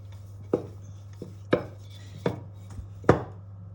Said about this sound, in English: we're going to cut it with a cookie cutter that is 7 centimeters in diameter